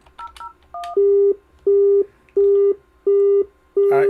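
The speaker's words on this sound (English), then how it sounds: "I am unable to dial any of these numbers. I am getting a busy." Telephone busy signal on a Mitel MiVoice Business phone system: five loud, evenly spaced beeps in a steady on-off rhythm, heard alone and close up.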